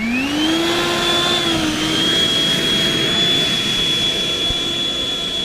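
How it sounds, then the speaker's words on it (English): An HSD 90mm Viper RC model jet with an electric ducted fan taxis with a loud, steady whine that rises in pitch and then holds, heard close throughout. "We'll taxi the 90mm Viper jet out."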